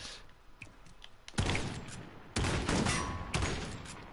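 Bursts of gunfire in Call of Duty Infinite Warfare: three loud, sharp volleys about a second apart, each decaying slowly, over a low background hum.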